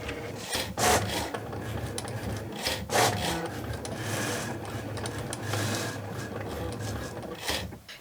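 A Cricut cutting machine running with a fine point blade installed, a steady mechanical whir and rasping drag with periodic louder carriage sweeps, close and alone with no talking.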